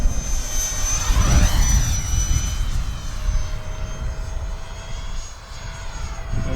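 An FF-Viper-50 RC model jet flies in strong, gusty wind, its engine a steady loud whine that rises as it sweeps close and then drifts farther off, with wind rumble underneath throughout.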